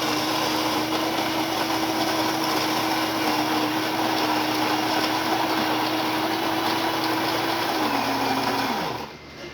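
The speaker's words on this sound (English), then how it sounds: "Today I'm testing a Saeco espresso machine," A Saeco espresso machine, freshly serviced after a full tune-up, pulls a shot with a loud steady pump hum and buzz that holds for about eight seconds, then winds down and stops abruptly.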